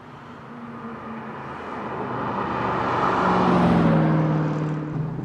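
Corvette C5 driving with traction control off, engine whir and road noise building steadily to a peak and then easing slightly, heard close and alone.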